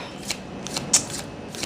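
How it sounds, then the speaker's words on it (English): A deck of tarot cards is shuffled softly by hand, a few quiet riffling bursts spaced irregularly at close range. "as I go ahead and shuffle"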